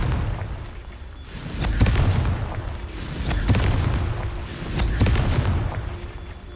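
Confringo fire spell explosions in the Hogwarts Legacy video game, a series of deep booming blasts with crackling bursts, repeating every second or so over a rumbling background.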